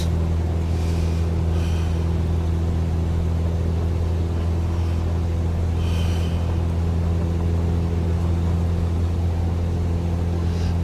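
Bush plane accelerating down the runway and rotating at Queenstown airport, New Zealand: a loud, steady engine drone with a strong low rumble that holds throughout, with no talk over it.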